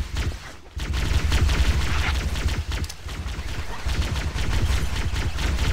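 Rapid gunfire in Halo: Combat Evolved, bursts hammering against a wall in steady, dense volleys that run almost without pause, loud and close with a brief gap near the start.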